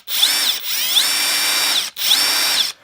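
Kobalt 24V max 3/8-inch cordless impact wrench running in second gear, two sustained high-pitched whirring bursts separated by a brief pause, close and loud with no talking.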